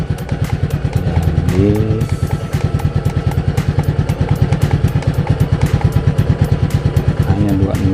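A Yamaha Fazzio scooter engine fires up and keeps running with a fast, even putter close by, while someone speaks over it.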